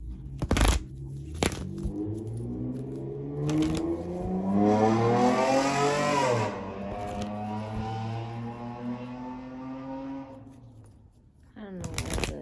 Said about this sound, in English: I don't see the point of adding that type of noise or exhaust to those vehicles.